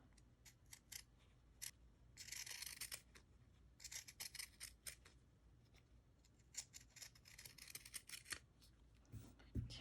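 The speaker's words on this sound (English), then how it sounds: "Some pinking shears, which you can use regular shears as well, and just be sure to snip around the corners and" Pinking shears snipping through fabric around hand-sewn doll pieces, a quiet series of close crisp cuts coming in irregular short clusters.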